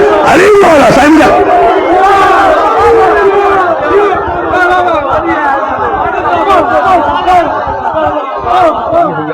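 A large crowd of men chants the religious slogan Ali Maula in unison at a Shia majlis gathering in Larkana, loud and close, rising in repeated rhythmic waves over dense babble.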